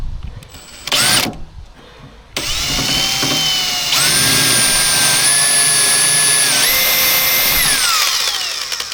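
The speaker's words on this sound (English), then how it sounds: "then I'll use the step drill." A power drill with a step bit whines steadily at close range, its pitch rising and shifting as it bites through material, after a brief start-and-stop at the beginning.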